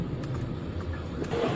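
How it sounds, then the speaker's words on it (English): A car speeds along during a police pursuit, a steady mid-range engine drone with road noise and brief clunks, heard up close. "Stop the f***ing car!"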